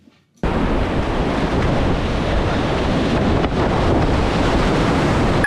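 Rushing whitewater of a longer rapid on Teter Creek, a Tygart tributary, heard while kayaking: a loud, steady broadband roar close to the microphone, with wind buffeting, starting abruptly after a brief quiet moment.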